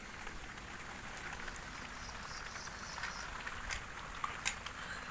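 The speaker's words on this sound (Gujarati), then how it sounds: "ધીરે ધીરે ધીરે વરસાદ ચાલુ થઈ ગયો" Soft, steady rainfall just beginning patters outdoors on a farm with bullocks, with scattered light taps and drips, fairly quiet and even throughout.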